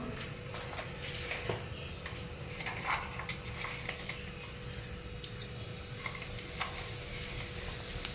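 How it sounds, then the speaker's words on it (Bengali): Panch phoron and dried red chillies sizzle in hot oil in a pan, a steady close crackling hiss with occasional clinks and stirring scrapes of a utensil against the pot. "এদিকে তেলটাও গরম হয়ে গেছে পাঁচফোড়নটা দিয়ে দিলাম আর তার সঙ্গে শুকনো লঙ্কাগুলোও দিয়ে দিচ্ছি"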